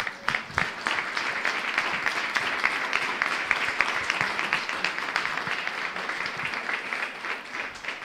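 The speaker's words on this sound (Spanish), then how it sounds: "Le damos un fuerte aplauso al Señor" A church congregation gives a strong round of applause after a sermon, sustained clapping from many hands in a large room, even and moderately distant, with no speech over it.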